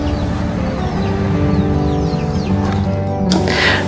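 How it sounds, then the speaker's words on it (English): Wild chickens, mother hens with chicks, roaming the streets of upcountry Makawao on Maui, clucking and chirping steadily and fairly close over a continuous outdoor background. "A common sight around Maui are wild chickens, especially upcountry where you can see mother hens marching down Makawao Avenue, leading their chicks in search of food."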